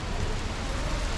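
Rain falls steadily in Germany after a short dry spell, a soft, even hiss of drops close around with no talking.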